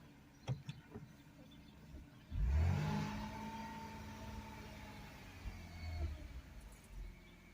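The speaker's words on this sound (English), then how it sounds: "we're going to listen to the engine a little bit" A car engine idles under the hood, then swells into a brief rev with a rising whine before settling back to a steady hum, captured quietly and close with a few clicks and knocks at the start.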